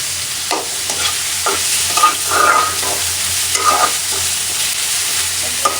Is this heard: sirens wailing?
no